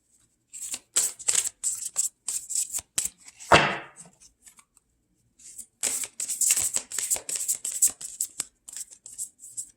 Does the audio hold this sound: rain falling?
no